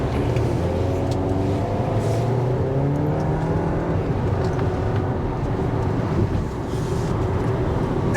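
A 2023 Dodge Hornet GT SUV engine pulls hard under acceleration, a loud, continuous drone whose pitch climbs steadily as it revs up through the gears, heard from close by with no talk.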